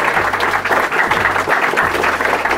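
An audience at an architecture conference in Oaxaca claps loudly and continuously, a dense wash of applause with faint low tones beneath, close and sustained for a couple of seconds.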